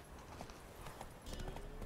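Roach the horse's hooves clip-clopping at a walk in the video game The Witcher 3, a quiet, steady patter under a low ambient background.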